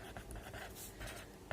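Pen or pencil writing out geometry steps on paper for a class 8 math exercise, a soft continuous scratchy scraping with small pauses and a sharper tap near the end, quiet and close.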